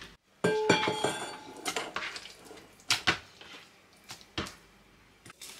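Chili and shallots pounded in a mortar in a home kitchen, a run of sharp irregular knocks and clinks close up, some strikes louder than others, with no talk.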